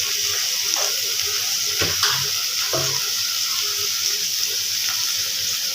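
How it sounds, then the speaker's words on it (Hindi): Tomatoes, mixed spices and salt frying in a pan for a cauliflower, potato and pea dish, giving a loud, steady hiss of sizzling with a few soft stirring knocks. "साथ में मिक्स मसाला नमक ये सब चीज़ें ऐड कर दूँगी ताकि सब चीज़ों के अच्छे तरीके से भुनाई हो जाए"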